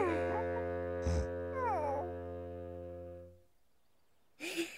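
A cartoon dog lets out a short whimpering whine over a bright, sustained musical backing, with a brief soft yip-like sound later in the clip.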